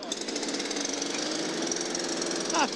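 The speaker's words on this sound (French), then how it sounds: "Ah, je démarre la tronçonneuse." A chainsaw engine starts at a motorcycle show and runs with a steady, loud buzzing drone, joined by a brief rising rev near the end. Voices talk faintly underneath.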